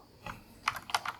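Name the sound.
typing on a Razer keyboard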